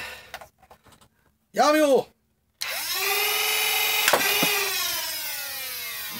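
A foam dart blaster from a TD Minissota and Hooligan unboxing spins up its flywheels into a loud, steady high whine that winds down with descending tones. A short revving burst comes first, and a voice speaks briefly before it.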